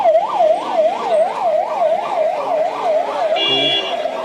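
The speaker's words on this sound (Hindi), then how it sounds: "ये तस्वीर देखिए, एम्बुलेंस से किसी को ले जाया जा रहा है।" Ambulance siren wailing in a steady rapid up-and-down cycle, loud and close, running continuously with road traffic noise beneath and a brief horn-like tone near the end.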